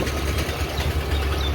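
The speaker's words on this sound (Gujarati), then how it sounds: "આપણે હવે એક્ટિવા સ્ટાર્ટઅપ કરીને ચાલવાની તૈયારી કરી દીધી છે" A Honda Activa scooter engine idles with a steady, close, even putter and no break in the sound.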